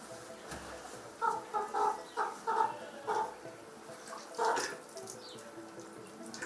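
A white chicken held before a traditional Samo sacrifice clucks in a run of short, rhythmic bursts, faint and close, over a low background with a soft trickle of water.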